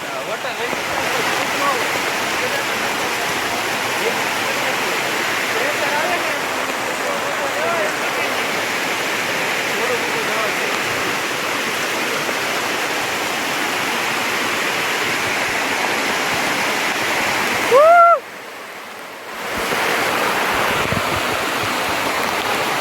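Heavy monsoon rain with rushing water in the Girnar hills near Junagadh, a steady dense roar throughout, briefly cut near the end by a short rising whistle-like tone and a dip before the downpour returns.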